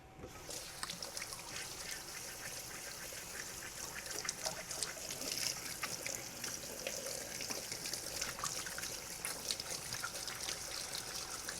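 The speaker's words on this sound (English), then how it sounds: "Let me wash my hands real quick." Tap water trickling steadily and faintly while hands are washed clean of sourdough bread dough, a soft continuous splashing stream with light clattering.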